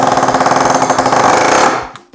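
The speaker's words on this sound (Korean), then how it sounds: "에어헤머는 어쩔 수 없이 작은 못을 보여드려야 될 것 같습니다" Pneumatic air hammer rapidly striking a small nail, a dense, loud buzzing stream of quick metallic impacts lasting under two seconds, then cutting off with a final short tap.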